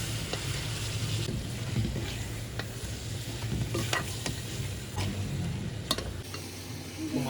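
Okra and mutton curry stirred in a pan, a continuous low sizzle with scattered scraping and clinking strokes of a spoon against the pan, close and fairly quiet.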